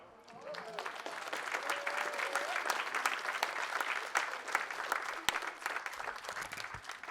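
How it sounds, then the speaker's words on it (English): An audience claps in applause for speakers at an afternoon event, a sustained burst of many hands that swells and then thins out toward the end. "one more round of applause for all of our speakers today"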